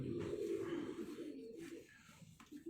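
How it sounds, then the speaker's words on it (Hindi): A Karachi pigeon with jet-black feet gives soft, throaty cooing phrases close by, repeated over a quiet background. "ये आपके कराची का कबूतर?"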